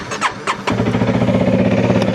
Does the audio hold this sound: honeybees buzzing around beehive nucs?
no